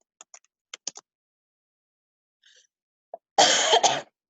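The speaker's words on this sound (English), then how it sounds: "You know it's bad when it hurts to cough." A few quiet clicks, then one loud, harsh cough burst near the end, close and alone.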